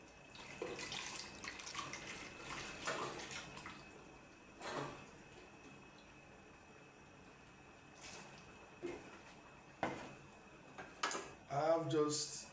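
Vegetables being rinsed under a running kitchen tap while cooking okra soup, with water splashing in brief bursts amid quieter stretches, faint and close, and some speech in the background.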